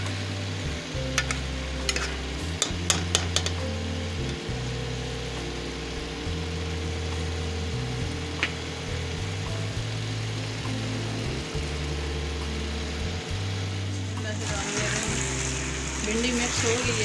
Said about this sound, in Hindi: भिंडी मिक्स हो गई है चिकन में